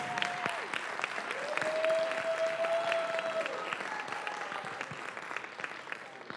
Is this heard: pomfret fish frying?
no